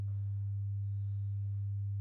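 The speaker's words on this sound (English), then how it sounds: "So this is very, very subtle type of distortion." A low sine test tone with subtle saturation distortion hums steadily and evenly at a soft level, alone and unchanging.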